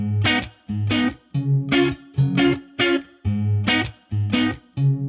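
A clean 80s-style pop electric guitar with chorus plays rhythmic chopped chords in short bursts with gaps between them. It is close and alone, with no voices.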